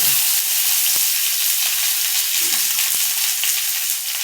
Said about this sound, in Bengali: এবার দিয়ে দেবো পেঁয়াজটা দিয়ে।